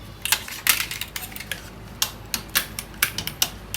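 A gas stove burner is lit, giving a close, rapid series of sharp ticking igniter clicks, about a dozen over a few seconds, with no one talking.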